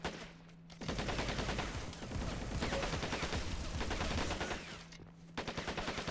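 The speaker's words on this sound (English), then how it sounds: "it's coming down to a pretty fierce firefight" Rapid automatic weapon fire in a fierce firefight in the Planetside Arena video game, dense overlapping bursts rattling continuously for several seconds, with a brief lull before more shots, loud and close.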